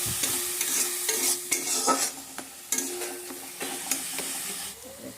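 Ginger, garlic and onion paste frying with spices in hot oil for Odia aloo matar kasa, a steady close sizzle broken by repeated scraping stirs, with a faint tonal hum running underneath.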